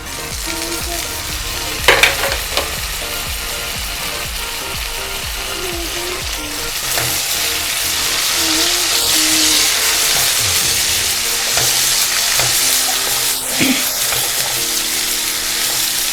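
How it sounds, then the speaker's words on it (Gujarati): Onions frying in a pan for a Gujarati-style baingan bharta are stirred continuously. A loud, steady sizzle runs under repeated scraping and clicking of the spoon against the pan, with occasional sharper knocks. "તો ડુંગળી આપણે હલકી બ્રાઉન થાય ત્યાં સુધી હલાવશું"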